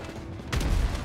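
Gunfire in the GTA 5 video game erupts halfway through as a loud, dense burst of booming shots after a steady rumbling backdrop, close and continuous to the end.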